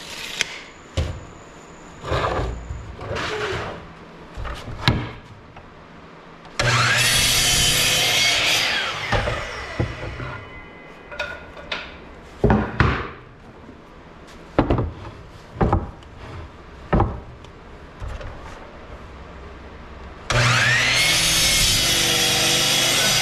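A power saw cuts wood boards in half for a cutting board, giving two long loud bursts of sawing, with clunks and handling knocks from the workshop in between.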